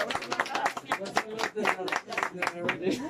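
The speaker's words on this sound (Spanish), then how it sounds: "El aplauso bien bonito y bien fuerte que se escucha." Audience applause at a mariachi quinceañera performance, dense rapid clapping from a crowd, steady and fairly close, lasting throughout.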